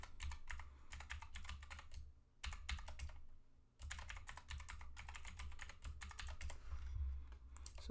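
Fingers tap out a root password on a computer keyboard in quick bursts of crisp clicks, with short pauses between runs of keystrokes, close and fairly quiet with no talking.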